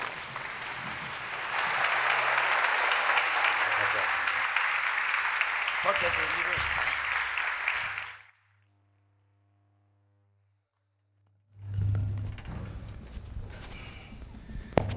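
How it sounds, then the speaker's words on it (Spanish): An audience in the Teatro Nacional breaks into loud, sustained applause welcoming three speakers to a public conversation, steady dense clapping for about eight seconds before cutting to silence, then a voice begins speaking. "les pido un fuerte aplauso para los tres que aquí llegan"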